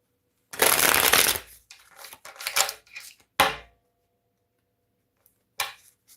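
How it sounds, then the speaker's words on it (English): Tarot cards are shuffled close by in a loud riffling burst, followed by several shorter shuffles and card snaps separated by quiet gaps. "Look, I'm trying to shuffle."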